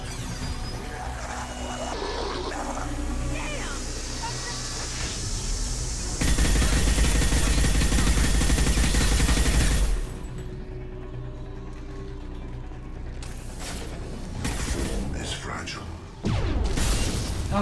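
Gunfire rattles through the Mass Effect 2 suicide mission in a dense wash of game sound. A loud burst of shooting sits midway, with effects and voices talking throughout.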